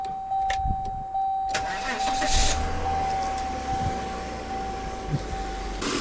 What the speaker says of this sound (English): This engine runs so smooth, it's crazy.